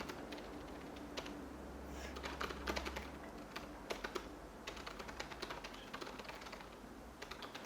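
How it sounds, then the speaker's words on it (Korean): Fast typing on a computer keyboard rattles in rapid, uneven bursts of close key clicks while a blog post is being written, with a low hum underneath and no talk. "지금 타자가 엄청 빠르시네"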